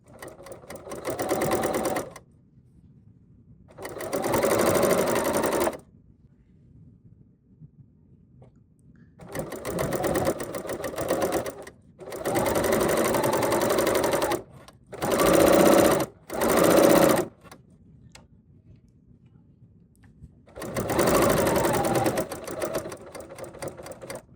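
A serger sewing machine stitching fabric along a drawn line runs in several loud, rapid bursts of a few seconds each, separated by quiet pauses, with no voices.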